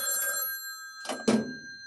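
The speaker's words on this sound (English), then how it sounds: "Ring." A telephone rings through a step-by-step electromechanical telephone switch after a number is dialed. Bursts of clear, loud bell ringing come close by, ending in a mechanical thunk.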